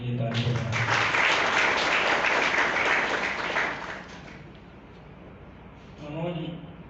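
Audience at a birthday celebration and book launch applauds loudly for about four seconds, the clapping then fading into quiet room tone before a brief voice speaks.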